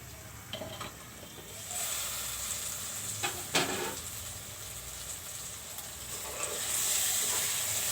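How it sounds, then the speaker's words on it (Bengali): Shrimp heads frying in a covered pan, a steady soft sizzle and hiss with occasional brief stirring scrapes, fairly quiet and close. "এখন আমি ঢেকে দিয়ে চিংড়ি মাছের মাথাগুলো একটু কষিয়ে নিব।"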